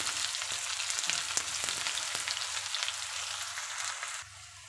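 Onions sizzle in a hot pan, a dense steady crackle with small pops close up, fading quieter at the very end, with no talking.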